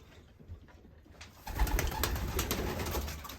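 Pigeons in a loft holding a young 2022 racing team, giving soft continuous cooing and rustling that grows louder and busier partway through, close by with no talking.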